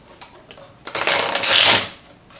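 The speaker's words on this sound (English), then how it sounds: "if I could shuffle the damn cards" Tarot cards being shuffled at close range, a short burst of rapid riffling and flapping that swells and then stops, preceded by a few light card taps.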